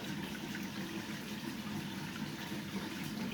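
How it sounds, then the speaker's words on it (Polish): Water rushes and gurgles steadily through the flow of a 600-litre aquarium during a water change, a constant close wash of noise with no speech. "Jeszcze tylko tutaj woda mi hałasuje właśnie z tego przepływu"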